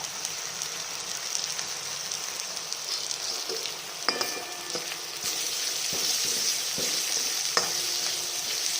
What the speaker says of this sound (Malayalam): ഒരു സ്പൂൺ മുളക് പൊടി മല്ലിപ്പൊടി മഞ്ഞൾപ്പൊടി എല്ലാം ഇട്ട് നല്ലവണ്ണം ഫ്രൈ ആക്കുക